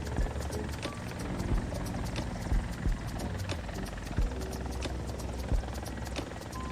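A helicopter climbs slowly in the video game War Thunder, its rotor and engine a continuous mid-level thrum with periodic thumps, heard alone without talk.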